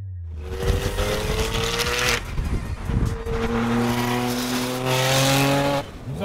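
A turbocharged Porsche 911 Turbo of the 996 generation, built to about 1,000 horsepower and running open wastegates, roars loudly and close as it pulls hard through rising revs, with brief breaks at gear changes.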